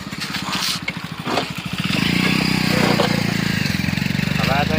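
A Honda Activa scooter engine hums and idles close by, starting rough and then settling into a steady, buzzing drone, with people talking over it.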